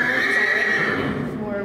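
A horse in a stable stall lets out a long, loud whinny that rises and trails off over more than a second, heard up close.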